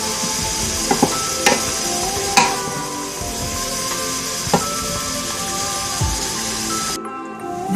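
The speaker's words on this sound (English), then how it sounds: "those onions and peppers are smelling good." Onions and peppers frying in a pan for cheesesteaks, a loud, steady sizzle with occasional sharp clicks and pops of stirring, ending abruptly.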